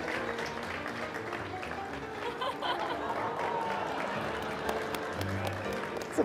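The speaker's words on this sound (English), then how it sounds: "Here, a round of applause for Kiki." Convention panel audience at MAGFest applauding a Kiki cosplayer, a steady wash of crowd clapping mixed with scattered laughter and chatter throughout.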